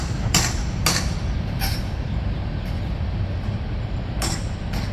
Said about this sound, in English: trains coming by.